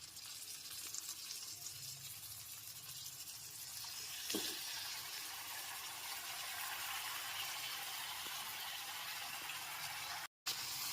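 Marinated chicken pieces sizzle in a pan with onion and ginger-garlic paste for a yogurt chicken dish, a steady loud frying hiss with a brief stir clatter partway through, no voices.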